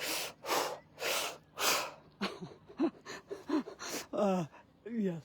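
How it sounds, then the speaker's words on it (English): Forceful breath-of-fire breathing exercise with equal in and out breaths: four loud, rhythmic breath bursts, followed by a person speaking. "that's a fire breath, equal in and out"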